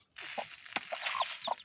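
Chicks clucking and peeping while feeding from a bowl in a village yard, a busy run of short chirps and soft clucks close by, with a brief tap partway through.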